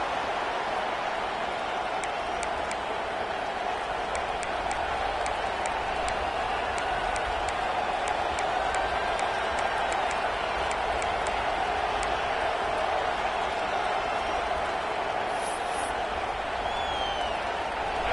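A roaring crowd fills a college football stadium in a steady, dense wash of noise that holds without letup, with scattered cheers and whistles rising over it and an announcer talking on top.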